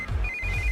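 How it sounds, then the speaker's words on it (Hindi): A telephone ringtone chirps in a short, steady electronic tone, close and clear, over a low background rumble, with no one speaking. "इस वक्त दीदी का फोन।"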